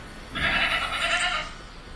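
A single goat bleats once, a clear wavering cry lasting about a second over quiet background.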